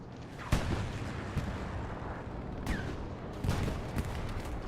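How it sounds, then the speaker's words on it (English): Strafing runs and gunfire rattle across a Hell Let Loose battlefield, with several sharp reports and bursts standing out over a constant loud rumble of distant fire and explosions, and no voices. "We can hear the strafes coming in from both teams."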